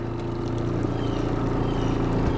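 An off-grid washing machine running on its normal cycle gives a steady, close motor hum with a constant low drone that holds level throughout.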